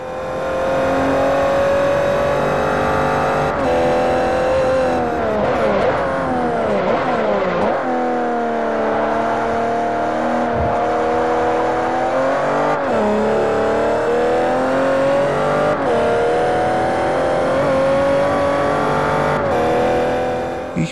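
A race car engine in the video game Forza Horizon 4 revs loudly and continuously, its pitch climbing and dropping repeatedly through gear shifts, with occasional tyre squeal.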